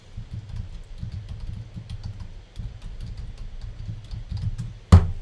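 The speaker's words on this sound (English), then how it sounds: "Let's see if I can type it in here." A URL being typed on a computer keyboard, a quick run of soft close key clicks, ending in one sharp louder tap.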